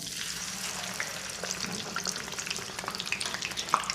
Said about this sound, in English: Lower the chips into the oil very gently.